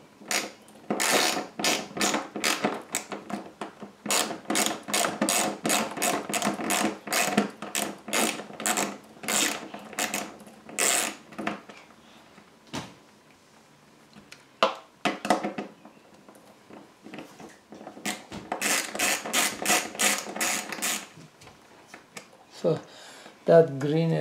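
A quarter-inch ratchet on an extension unscrews the water dispenser chute of a Maytag Whirlpool refrigerator, giving close, rapid runs of clicking strokes in two long bursts with a pause between.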